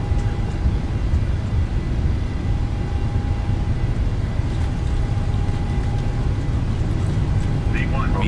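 Jet engines of a Boeing 737-800 BBJ2 at takeoff thrust, a steady loud roar with rumble under it, heard from inside with cockpit voices calling out over it.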